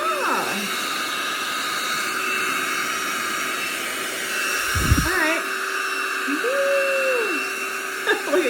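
A Holife cordless handheld vacuum with cyclonic suction runs steadily and loudly with a constant whine, while short voiced sounds and brief tonal chirps break in over the motor noise.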